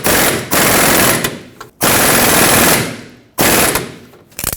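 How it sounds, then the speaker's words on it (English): A ball joint press presses a lower control arm rearward bushing into a 2003-2012 Chevrolet Colorado. Three loud, rapid rattling bursts are separated by short pauses, close up and without speech. "I got the ball joint press set up, so let's press the bushing in."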